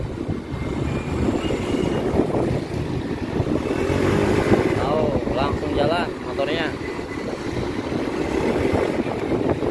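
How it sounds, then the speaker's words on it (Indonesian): An automatic scooter whose drive belt and pulley have been slipping from oil contamination pulls away, its engine droning steadily under wind buffeting while someone talks over it. "Nah, dia langsung jalan ya motornya."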